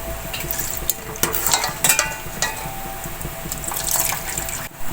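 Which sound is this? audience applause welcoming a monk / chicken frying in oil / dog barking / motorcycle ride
chicken frying in oil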